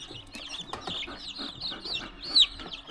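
Lavender chicks and roosters cluck and peep in a farm coop, a steady mix of soft overlapping calls with one sharper, louder chirp near the end.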